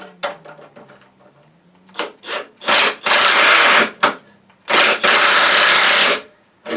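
Bolts being driven through plate steel into wooden loading ramps, two long loud rattling bursts of a power driver after short clicks and taps, close by.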